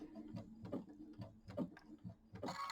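A sewing machine stitching quilt seams slowly, a close series of soft mechanical taps and whirs in uneven short bursts, fairly quiet, ending in a brighter whir.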